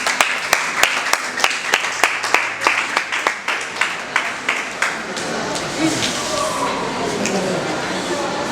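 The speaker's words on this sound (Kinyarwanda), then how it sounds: "Miti twamukomera amashyi nk'uko azaramwe." Applause at a child's 12th birthday party, with sharp distinct claps in the first seconds that swell into a dense, sustained round of clapping from a gathered crowd.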